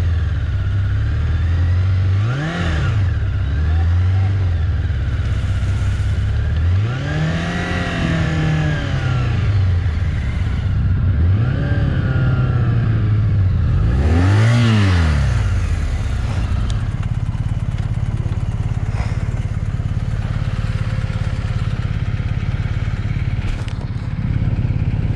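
A motorcycle engine revs hard in repeated rising and falling surges while crossing water, loud and close, with clatter and splashing under the engine noise.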